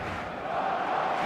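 A huge football crowd of over 100,000 at Spotify Camp Nou, Barcelona, creates a dense, continuous roar that fills the whole stretch evenly, with no distinct voices standing out.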